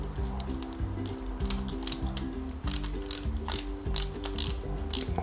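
A screw is driven with a ratcheting screwdriver into a Lancia 037 scale model kit, producing a steady, close run of rapid mechanical clicks and ratchet ticks.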